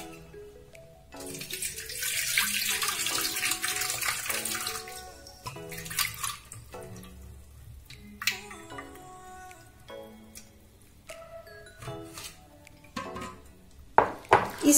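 Soybeans washed and rubbed by hand in a bowl of water to loosen their skins, with repeated splashing, sloshing and clicking of beans over several rounds, close and fairly quiet.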